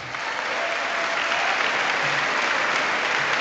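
Applause rises quickly and holds as a dense, continuous wall of clapping from a large audience in the chamber at the State of the Union address.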